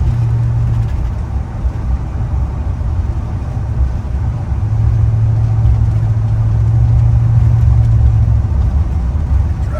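A 1977 GMC Sierra Classic California pickup truck's engine runs steadily at close range, a low continuous drone with a slight rise in pitch partway through, with no talking.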